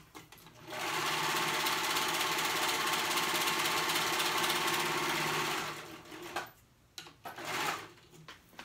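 A sewing machine stitches the short raw edge of a fabric band, right sides together, in one loud, steady, close whirring run of about five seconds, then stops, followed by a few short, quieter bursts of handling noise.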